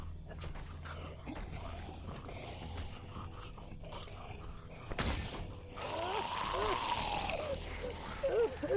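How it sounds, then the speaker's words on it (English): A car window shatters from a thrown spark plug in The Walking Dead video game, a sudden sharp loud crash midway through, followed by growling and snarling noises amid game ambience. "Picked up that spark plug to shatter that window, right?"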